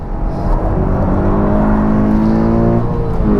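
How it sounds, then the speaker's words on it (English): Toyota GT86 engine revving hard under load on track, with quick throttle blips as it downshifts into a chicane; a loud, steady rising and falling engine note fills the recording throughout, with no talking. "Lovely little blips there."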